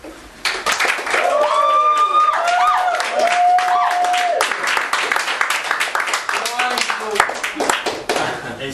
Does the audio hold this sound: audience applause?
yes